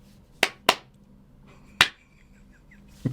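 Three sharp hand claps, used to sync a recording, ring out in an indoor room: two in quick succession, then a third after a pause, followed by a softer thump at the end.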